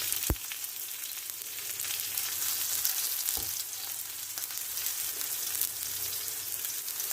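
Fish fries in hot oil with a dense, even, close sizzle that runs throughout, broken by a couple of brief sharp clicks.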